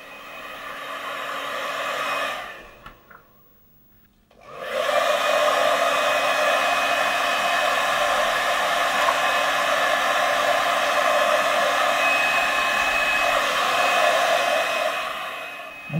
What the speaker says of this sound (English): You can see I keep moving the hairdryer around.